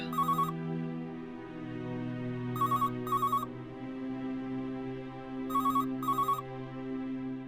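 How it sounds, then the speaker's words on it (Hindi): A telephone rings indoors in a domestic drama scene, sounding in repeated paired electronic trills at a steady rhythm, clear but moderate in level over a low sustained musical background. "मेरे सिवा फोन कोई नहीं उठाएगा।"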